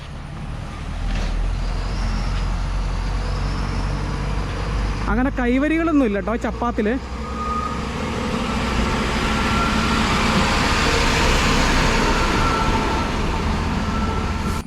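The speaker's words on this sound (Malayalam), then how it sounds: "അതിൽ ടിപ്പർ വരുന്നുണ്ട് കേട്ടോ" A tipper truck crossing a narrow causeway bridge with no railings near Thommankuthu in Kerala, a low engine rumble that swells louder as it draws near, with someone speaking briefly over it.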